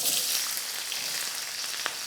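Red onions frying in a couple of tablespoons of oil, a steady close hiss and crackle of sizzling with a faint stir near the end, no talking.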